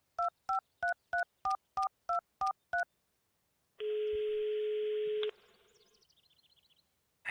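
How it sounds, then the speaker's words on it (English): A cell phone number is dialed in the Runaway 3 adventure game: eight evenly spaced keypad tones, then a steady ringback-style tone of about a second and a half, followed by faint line noise. "I'll call him on his cell phone."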